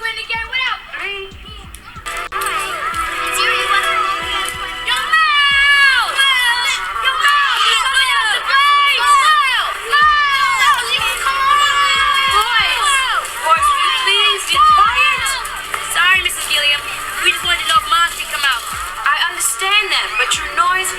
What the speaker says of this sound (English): I want you to stop yelling outside my window